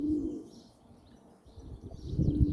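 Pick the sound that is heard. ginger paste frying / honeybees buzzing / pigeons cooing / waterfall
pigeons cooing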